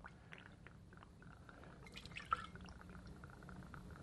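Light rum poured into a bar jigger while mixing a cocktail, a soft, faint trickle that runs steadily for a few seconds with a small clink near the middle.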